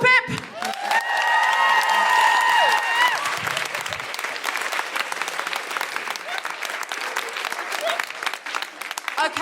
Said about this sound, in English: Big round of applause for Pip!